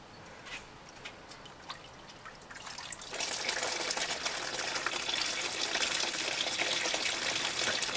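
Water gushes from a drain plug on a Cutlass, starting with sparse drips and then swelling into a steady, rushing stream that continues loud and close.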